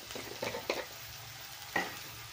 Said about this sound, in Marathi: आता कांदा छान आपल्याला गुलाबी होईपर्यंत मस्त परतून घ्यायचा आहे।